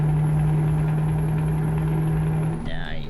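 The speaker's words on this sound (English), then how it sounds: "I could listen to the engine on this truck all day though" A truck engine in Euro Truck Simulator 2 drones steadily with a deep, even hum and a high whine, fading slightly near the end as a voice begins.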